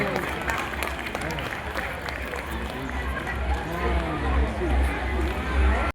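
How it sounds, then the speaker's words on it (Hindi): Audience applause at a Christ Church School Christmas celebration, dense steady clapping from a hall full of people with murmured voices underneath, swelling slightly toward the end. "एक बार जोरदार तालियां के लिए बजाइए प्लीज।"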